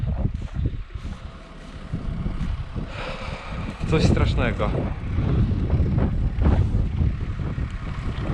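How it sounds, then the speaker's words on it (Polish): Strong, cold wind buffets the microphone in loud, gusty rumbles while spreading manure, with a person speaking briefly amid the blustering noise. "jest tak zimno przez ten wiatr"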